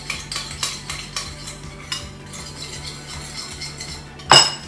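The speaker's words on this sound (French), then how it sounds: "vous mélangez cette préparation" A utensil clinks and scrapes around a bowl as a lemon marinade for tuna is stirred, with light repeated taps and a sharper, louder knock near the end.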